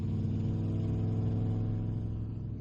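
A car drives a few minutes down a main country road, a steady, close engine rumble with a constant low drone that eases off slightly near the end.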